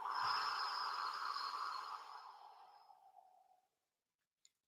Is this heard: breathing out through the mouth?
yes